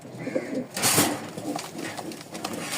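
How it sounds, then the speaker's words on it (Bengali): A pair of long-tailed fantail pigeons coo softly and repeatedly at close range, with a brief rustle or flutter partway through. "আর এখানে একজোড়া লং টেলের লক্ষা আছে মাশাল্লাহ, এটা ডিম দিবে"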